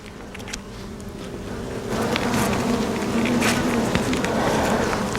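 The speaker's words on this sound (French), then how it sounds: "Il y a plus d'abeilles aussi." Honeybees buzz around an open beehive, a dense, close swarm drone that grows louder partway through and holds steady, with no talking.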